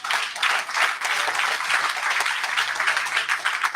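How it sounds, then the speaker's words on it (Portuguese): A church congregation claps loudly and continuously in praise during a worship service, dense and steady applause from start to finish. "Dê um aplauso a Jesus."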